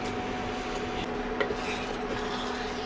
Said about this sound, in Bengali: এখন আমি মাংসটাকে ঢেলে দেবো।